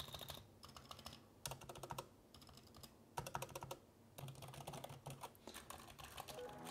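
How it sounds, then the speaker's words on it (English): Keys on a Razer DeathStalker V2 Pro keyboard are typed in quick bursts of close, crisp clicks separated by short pauses, quiet overall and with no talking. "And as for the keys and how they sound,"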